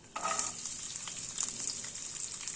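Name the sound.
frying peanuts and chopped coconut in a pan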